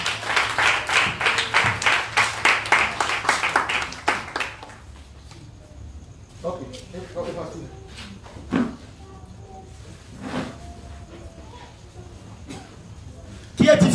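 A church congregation at a deliverance sermon claps and acclaims Jesus, with a loud rhythmic burst of applause for about four seconds that then fades into scattered voices, cheers and occasional claps.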